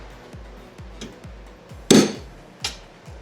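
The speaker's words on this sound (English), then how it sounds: "I'm using a small transfer punch to mark the location of the holes to be drilled." Light, evenly spaced metallic taps from a small transfer punch marking hole locations on wood for a miter saw station, with one sharper, louder strike midway and another shortly after, close and alone.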